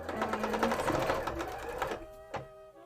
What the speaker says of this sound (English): I am sewing, so it's okay